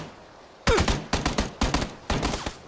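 Gunfire in PlayerUnknown's Battlegrounds: four loud, close bursts of rapid shots in quick succession, each a cluster of sharp cracks separated by brief pauses, with no talk.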